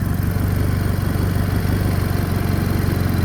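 An Arctic Cat engine idles steadily after its sensor adjustment, a close, continuous low rumble with an even pulsing throb and no talk over it.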